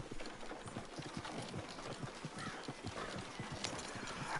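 Steady clip-clop of horse hooves drawing a cart in Red Dead Redemption 2, a continuous even trotting rhythm over low rolling noise with a brief whinny.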